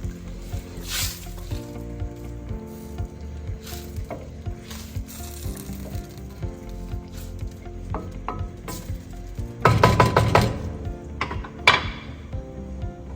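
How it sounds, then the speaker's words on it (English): Braising sauces for Cantonese pork ribs stirred in a pan, a soft steady sizzle with scattered clinks of a utensil and a louder burst of scraping and clattering near the end. "Stir to dissolve the sauces."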